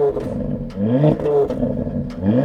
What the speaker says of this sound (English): So let's just find out what it sounds like.